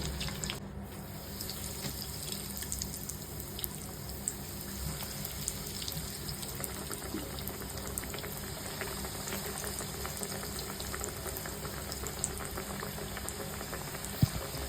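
Chicken pakoras deep-frying in hot oil give a steady, close bubbling hiss that runs unbroken and even throughout, with no one talking.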